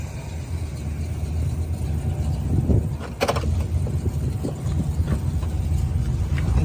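A muscle car engine rumbles steadily at idle, a deep low throb close by, with a few light clicks and knocks over it.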